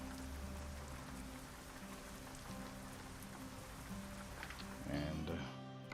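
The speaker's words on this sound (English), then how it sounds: "Rain has come." Steady rain hisses in a trucking simulator game over a low engine drone, with a brief louder rattle near the end and someone talking.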